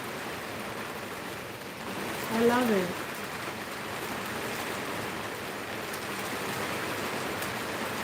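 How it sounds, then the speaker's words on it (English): Steady rain falls outdoors near Kronborg Castle in Helsingør, a dense, even hiss of drops that lasts throughout, with a person speaking briefly over it partway through. "There's the rain."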